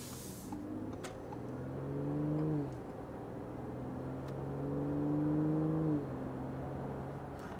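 An ABT-tuned turbocharged Audi Q7 with a performance exhaust driving on the road, its engine hum rising in two smooth acceleration swells with shifting tones, fairly quiet and steady in between, no talk.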